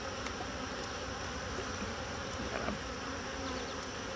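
Honeybees buzz steadily throughout a backyard hive inspection, a dense continuous insect hum close by with no talking.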